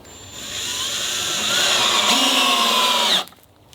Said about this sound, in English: You can definitely get by with just the drill.